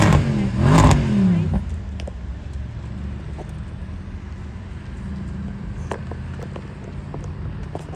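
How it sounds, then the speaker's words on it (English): Mercedes-AMG V8 cars, including a twin-turbo 4-litre V8, at the Mercedes Benz World display: a loud engine roar sweeps past in the first two seconds, then fades into a low distant rumble. "That's Phil in the twin turbo 4 litre V8"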